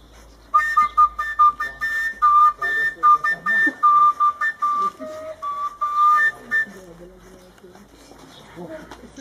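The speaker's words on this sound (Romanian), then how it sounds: "Acestea nu sunt săbii, sunt chilini și fluiere." Soldiers play tilinca flutes and whistles together, with bright, sustained, wavering high notes in a tune of repeated phrases, mixed with voices and other sounds, before the piping stops and lower sounds carry on.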